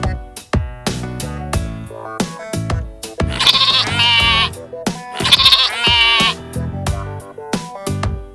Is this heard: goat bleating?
yes